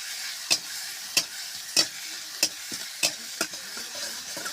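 Onion paste fries in oil for a chicken curry, a soft steady sizzle broken by about seven sharp, evenly spaced spoon strokes against the pan, close and alone.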